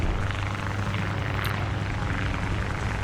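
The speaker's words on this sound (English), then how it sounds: "I hear a plane." A steady, droning aircraft engine hums continuously at moderate volume, a low propeller-like rumble holding constant throughout with no talking, from a Hawk 3 biplane flying overhead in the video game War Thunder.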